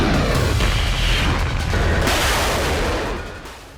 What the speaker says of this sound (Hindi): काला सागर में ओडेसा के करीब यूक्रेन के सिविलियन शिप में धमाका हुआ है।